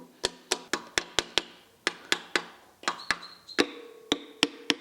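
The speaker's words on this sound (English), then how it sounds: "Rubber hammer." Rubber hammer tapped gently against a crankshaft during a Citroen U23/T23 engine rebuild: about eighteen sharp, evenly spaced knocks, close and crisp, each decaying quickly, with no talk.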